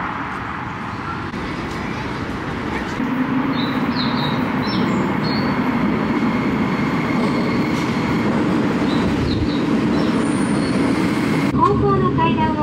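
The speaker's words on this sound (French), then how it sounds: "on va prendre le métro" Rumbling metro train in Japan, a broad steady roar that swells after a few seconds and holds loud throughout, with faint high squeals near the end.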